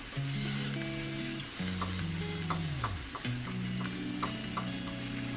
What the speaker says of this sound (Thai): ผัดคลุกเคล้าทั้งหมดให้เข้ากันนะครับ